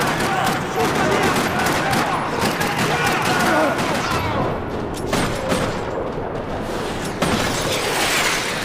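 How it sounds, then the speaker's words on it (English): Dense, continuous gunfire from Max Payne 3 echoes through a parking lot, sustained rattling volleys with occasional louder bursts. Shouting voices can be heard underneath. "Another parking lot rattling with gunfire."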